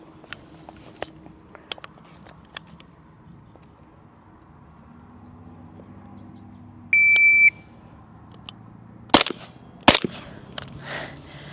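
A shot timer beeps once, followed about two seconds later by two sharp, loud rifle shots fired in quick succession while testing a Geissele-clone two-stage trigger, with faint handling noise before and after.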